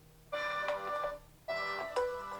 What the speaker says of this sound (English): it's actually going to ring your phone